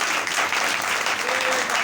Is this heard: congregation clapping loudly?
yes